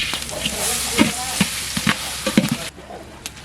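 Cabbage and onions stir-fry in hot oil with a continuous sizzle and repeated spatula scrapes and taps against the pan, close by. The frying drops off sharply near the end.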